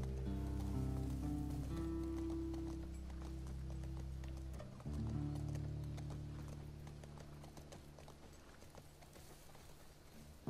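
Steady clip-clop of horse hooves at a brisk pace in The Last of Us Part II, mixed under a dense layer of game music and ambience.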